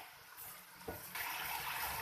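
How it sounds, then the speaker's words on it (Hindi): Water is poured into a pan of frying keema (minced meat); a soft thud gives way to a broad, rising hiss that holds steady, faint and close. "अब हम इसके अंदर डालेंगे पानी कि ये अच्छे से इसमें गल जाए"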